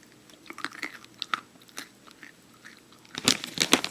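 Close, crisp bites and crunchy chewing of a snack eaten at home, irregular crunches that grow louder and denser near the end, with no talking.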